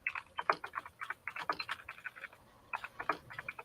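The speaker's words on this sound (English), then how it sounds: "I was just really hearing typing." Light, quick keystrokes tap on a keyboard in uneven runs, faint and close, with a brief pause near the end before a few more clicks.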